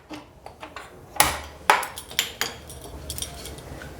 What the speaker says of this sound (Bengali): এবার আমি গ্যাসটাকে অন করে দেব